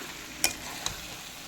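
Fish-head and cabbage curry turned over in a pan, with a soft steady sizzle and two brief metallic scrapes of the spoon close by.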